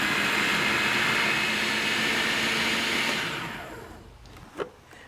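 A blender whirs loudly as it blitzes a larb paste with oyster sauce, a steady high-pitched motor roar that winds down and stops, followed by a brief clatter.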